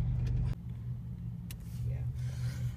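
A car pulling up to a QuikTrip convenience store, its engine a low steady rumble heard from inside, with a brief sharp noise near the start and another moment later.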